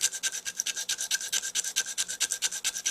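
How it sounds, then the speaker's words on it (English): A coarse sanding stick rasps rhythmically back and forth across a saxophone mouthpiece, a dry, close scratching stroke repeated steadily with no talk. "So I'm using the coarse sanding stick to start with."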